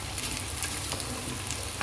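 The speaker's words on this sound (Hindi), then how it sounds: "ये देखें जी, इसमें मैं आलू ऐड कर रही हूँ" Potatoes and onions sizzling and frying steadily in a pan for aloo anda, a dense continuous crackle close by with faint stirring scrapes and no talking.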